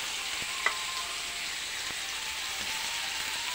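Papaya sautéing in a hot pan, a steady close sizzle with a few light clinks of a utensil against the pan.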